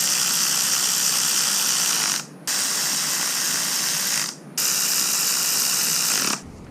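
Ratchet wrench running down the bolts in a crisscross pattern on a Toyota Tacoma differential during a regear: three long, steady, loud bursts of rapid ratcheting, each cut by a brief pause as the bolt changes, with no talking.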